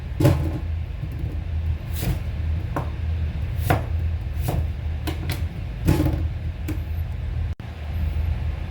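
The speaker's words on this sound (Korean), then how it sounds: "예, 큼직큼직하게 썰어줄게요." A kitchen knife chops Korean radish into large chunks on a cutting board, giving sharp, irregular knocks spread across the clip over a low background rumble.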